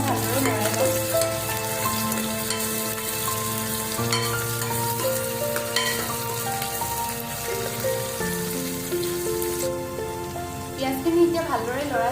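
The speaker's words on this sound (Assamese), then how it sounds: "পিঁয়াজখিনি দি এতিয়া মই ভালদৰে লৰাই লওঁ।" Chopped onions fry in hot oil while being stirred, a continuous soft sizzle and crackle sitting beneath prominent background music throughout.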